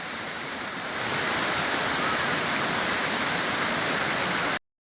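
Heavy, steady roar of a waterfall, loud and close, filling the whole clip before cutting off abruptly near the end.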